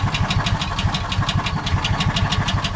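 A John Deere Gator 4x2 engine idles cold with a hard-starting, unsteady idle, a steady close chugging with rapid regular pulses and mechanical knock running throughout, no talking.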